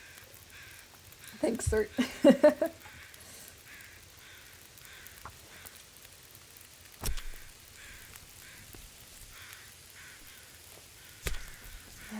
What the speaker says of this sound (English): listen to those crows yammering